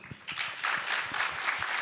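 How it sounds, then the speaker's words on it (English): Audience applause at a medical physicians' association convention, a short burst of clapping that swells and holds steady for a couple of seconds, moderately loud in a hall. "that deserves really a round of applause"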